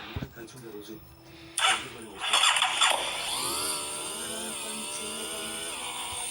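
A motorcycle engine starting up in the video game GTA V: a few clunks, then a rising crank that settles into a steady buzzing idle, up close and loud.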